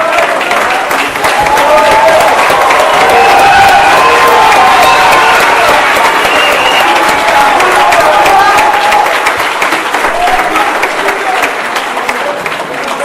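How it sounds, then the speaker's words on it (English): A standing audience at an award ceremony gives loud, sustained applause that holds steady throughout, with a bit of cheering mixed into the dense clapping. "Can I say honorably everyone to stand up and give him applause?"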